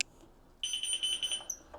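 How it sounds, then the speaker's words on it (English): A carbon monoxide alarm near an old Royal Enfield Crusader motorcycle gives a rapid, piercing series of high electronic beeps, starting partway through and heard alone at moderate loudness. "Carbon monoxide alarm."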